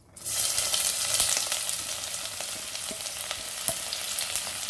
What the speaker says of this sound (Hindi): बाकी के तेल में हम डालेंगे प्याज